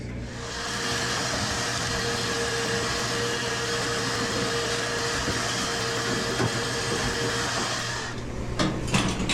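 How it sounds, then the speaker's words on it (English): A vacuum cleaner roars steadily and close for several seconds inside a Maytag Bravos XL washer, then its pitch shifts with some bumping and rattling as it moves. "So let me vacuum out some of this."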